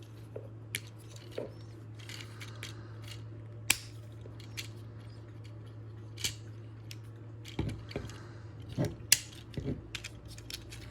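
Plastic parts of a Legacy Evolution Menasor toy figure being folded and rotated, scattered small clicks and snaps spaced irregularly over a low steady hum, close and quiet.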